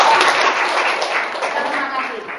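Participants at a teacher workshop on Kurikulum 2013 documents break into dense applause, a loud, continuous clatter of many hands that fades slightly toward the end, with voices mixed in.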